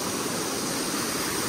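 Rainwater gushes continuously from a home drain pipe after an hour of torrential rain, a dense, steady roar that fills the whole moment with no pauses.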